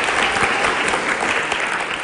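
Students of a state technical school applaud a guest, a punk rock musician, in a dense, steady burst of many hands clapping that fills the whole moment at close range.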